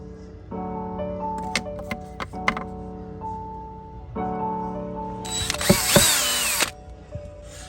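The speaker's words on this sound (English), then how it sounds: "So now we just need to drill a hole and then stick a keychain through." A power drill whirs in short bursts with pauses between, then grinds harder and louder as the bit bites through an empty trading-card packet to make a keychain hole, ending in a quieter hum.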